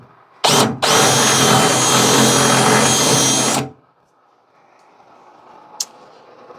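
A power tool chamfering edges during an Argo vehicle build whirs loudly up close, first in a brief burst and then in a sustained run of about three seconds before cutting off to near quiet.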